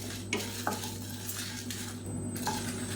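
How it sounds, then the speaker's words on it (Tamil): Red chillies and curry leaves dry-roast in a pan, with soft scraping stirs and light rattles of the spoon against the metal, quiet and close with no talking. "இது எல்லாத்தையும் வாசனை வர அளவுக்கு வறுத்துக்கலாம்"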